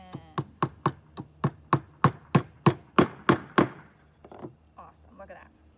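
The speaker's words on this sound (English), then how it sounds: "Get that grown up to help you hold this while you tap those nails in." A hammer taps nails into a wooden art caddy kit: about thirteen sharp, evenly spaced knocks that speed up slightly, then a few softer taps and a brief voice near the end.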